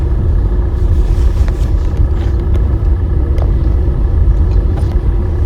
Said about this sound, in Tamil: பாருங்கள் வண்டி வந்து ஒரு 10 கிலோமீட்டர் ஸ்பீடில் கிளச்சிலேருந்து கால் எடுத்தாலே வந்து மூவ் ஆக ஆரம்பிச்சிருச்சு.